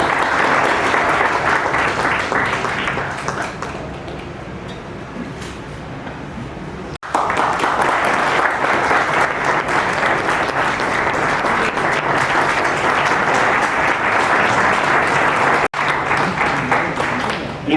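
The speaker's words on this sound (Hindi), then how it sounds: "जोरदार ताली बजाइए" Loud audience applause at a Teacher's Day celebration in an institute, a sustained roar of many hands clapping that dips briefly then surges back and carries on steadily to the end.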